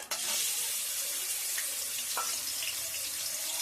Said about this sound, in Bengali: এখানে তেলটা গরম হয়ে গেছে, চিংড়ি মাছটা দিয়ে দেবো